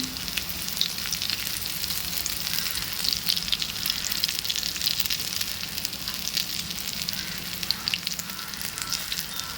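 Chicken keema and potato cutlets shallow-frying in oil until a crisp coating forms, a steady crackling sizzle with fine popping, no voices.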